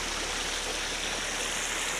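River water in a forested valley in Swat, Pakistan, rushes steadily while someone wades across, a continuous broadband flowing wash that stays even and close throughout with no speech.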